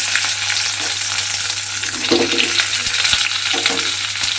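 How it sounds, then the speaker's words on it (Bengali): Sliced okra, washed and cut lengthwise, sizzles steadily in hot mustard oil, a dense close frying hiss with a few soft stirring clatters and no talk. "তেলটা আমার এখানে গরম হয়ে গেছে। এইবারে আমি এর মধ্যে দিয়ে দেব ঢ্যাঁড়স।"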